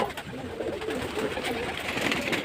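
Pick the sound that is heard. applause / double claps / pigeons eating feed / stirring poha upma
pigeons eating feed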